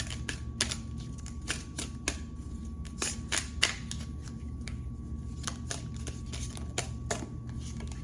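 Tarot cards being shuffled close up, a run of crisp riffling snaps and flicks at an uneven rhythm over a quiet, steady room hum.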